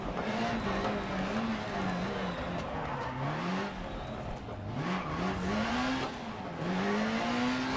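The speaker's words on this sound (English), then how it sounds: "come on. Start the car." Rally car engine in the Dirt Rally video game, starting and revving with a rising and falling buzzy tone, repeated climbs in pitch over steady loud road noise.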